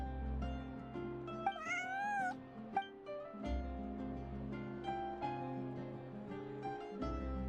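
A cat in the Genshin Impact video game meows several times in high, sliding calls over a steady game music backdrop, fairly clear and up front.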